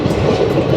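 Train at the Kumbh Mela 2025, a loud, close rumble of rolling rail cars with a rhythmic low clatter, heard briefly.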